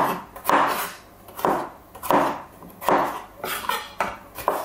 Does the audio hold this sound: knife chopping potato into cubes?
yes